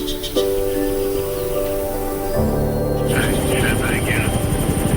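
Helicopter flying over Australian cattle country, a steady loud rotor and engine roar that builds partway through, with people talking over it.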